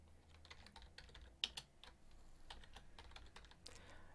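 Quiet, irregular keystrokes tapping on a computer keyboard, with a few sharper clicks standing out over faint background hum.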